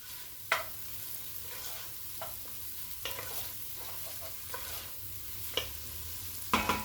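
Minced garlic frying in a pan with onions, a quiet continuous sizzle dotted with light scrapes and taps of a stirring utensil, fairly soft and close.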